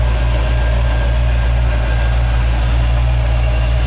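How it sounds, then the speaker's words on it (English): A 1972 GMC Jimmy with a rebuilt engine idles close by, producing a steady, continuous low rumble that never changes. "See the motor running. Runs excellent."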